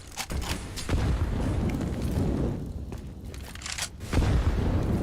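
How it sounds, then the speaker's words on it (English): Several grenade explosions in CS:GO land in succession as deep booms and rumbling blasts, mixed with scattered gunfire in a busy match. "Nades and nades and nades are coming in"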